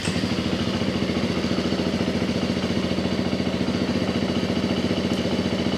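A 2024 Husqvarna FE350 motorcycle engine idles after starting, with a steady, close, rapid low pulse and mechanical clatter held evenly throughout.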